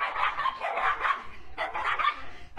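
A dog barks in a rapid, continuous flurry of sharp yaps, close and fairly loud, with a short pause before resuming.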